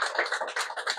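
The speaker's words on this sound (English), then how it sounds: "please give a round of applause for our most valuable player" Hands clap in a short burst of applause for a most valuable player at a basketball honors event, sounding as a moderately close, slightly uneven patter of claps with no talking.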